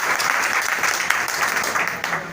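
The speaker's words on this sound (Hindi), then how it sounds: "तालियां बनती हैं।" Dense applause from an audience, steady clapping throughout at a strong, even level with no speech over it.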